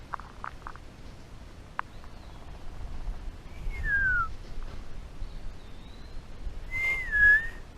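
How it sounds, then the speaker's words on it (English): A black-capped chickadee calls outdoors with a few thin, clear whistled notes spread across the stretch, fairly faint and at moderate distance, over quiet background rustle and a couple of small clicks. "That's a chickadee. Black-capped chickadee."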